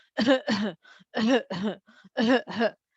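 Harsh, voiced coughs from a person with Parkinson's disease, in quick pairs, three bursts of two with short gaps between, close and fairly loud with no talking.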